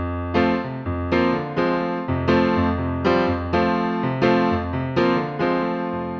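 Solo piano plays the main riff of a song, repeating chords struck evenly about every 0.7 seconds over a sustained bass, clear and close with no voices.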